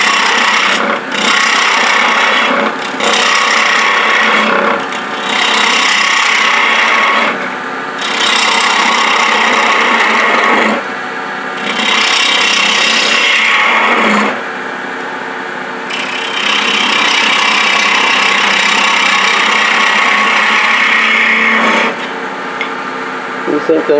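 A carbide detail tool cuts a wooden Christmas tree on a lathe, loud rasping scrapes in repeated passes broken by short pauses, with a voice talking now and then.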